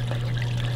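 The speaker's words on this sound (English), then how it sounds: "I'm trying to simulate a natural waterfall" Water trickles steadily over a rock wall in a custom aquarium waterfall, a constant close splashing wash with no pauses.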